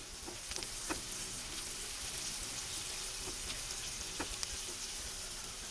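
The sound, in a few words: sautéing garlic and onions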